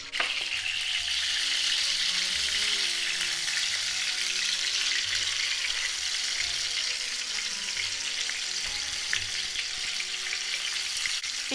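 Turkey liver cutlets frying in a pan: a continuous, even crackling sizzle that stays steady and close throughout, with no voices.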